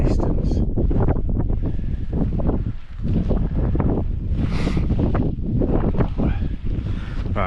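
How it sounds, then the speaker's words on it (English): Strong wind buffets the microphone up on the hills along the Pennine Way, a loud, continuous roaring rumble with gusty surges throughout. "The wind is buggery. Up on them there hills."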